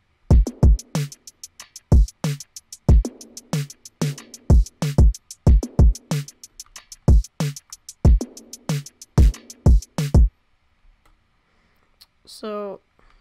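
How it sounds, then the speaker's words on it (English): Programmed drum beat with kick, snare, hi-hats and percussion hits, a crisp, steady rhythmic pattern of sharp hits lasting about ten seconds, followed by near silence and a brief faint tail. "And then here's what all the drums sound like."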